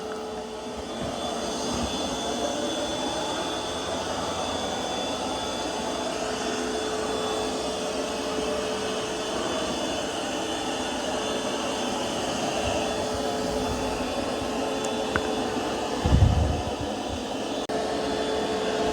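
A Curv 2 vacuum runs steadily over carpet, pulling up hair in a continuous droning whir that holds an even level throughout, with a brief thump near the end.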